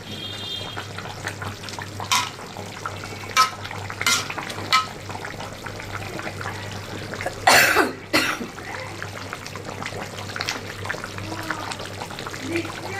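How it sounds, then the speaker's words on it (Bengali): Someone coughs several times in short, separate bursts, with one harsher, longer coughing fit partway through, against a quiet indoor hum. "কাশি"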